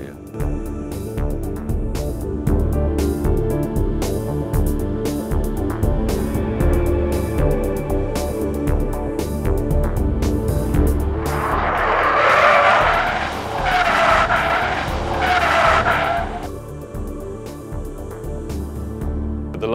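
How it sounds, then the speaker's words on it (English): A wind-powered car with left and right electric motors corners under load on a test track. A low motor drone runs beneath, then tyres squeal loudly in three bursts before easing off, and a voice speaks at points. "We need to now do some underload in the corner and try left and right motors again."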